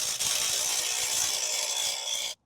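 Socket ratchet turning nuts on cut-down all thread to press a bushing, during a solid axle swap on a 3rd gen Toyota 4Runner; a continuous bright clicking whir, close and fairly quiet, ending abruptly.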